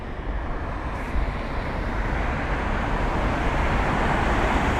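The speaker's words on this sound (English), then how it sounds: "the reg of that 787-8 Dreamliner taxiing for departure" A Boeing 787-8 Dreamliner taxis for departure at London Heathrow, heard as a steady, distant broadband jet roar with a faint whine, unbroken for several seconds with no talk.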